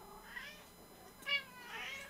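Cats on a cat cam give several drawn-out meows, separate calls spread across a quiet background at moderate distance, with no talk.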